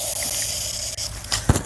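Water runs from a garden hose into containers during spring planting, a steady hissing flow ending in a brief low splash or gurgle.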